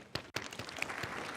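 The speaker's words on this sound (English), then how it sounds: "So I just want to give them a round of applause." A live audience at a university provost forum breaks into applause, a broad steady clatter of many hands that carries through the clip after a brief gap near the start.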